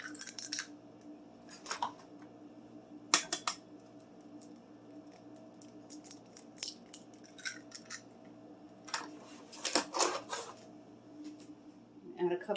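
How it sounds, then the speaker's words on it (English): Two eggs are cracked into a bowl in a home kitchen, giving sharp taps and brittle shell cracks spread through the clip, followed by soft wet drips, all fairly close and quiet. "Crack in 2 eggs."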